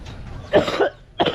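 Two sharp coughs close by, the second following shortly after the first, with a quieter breathy sound before them.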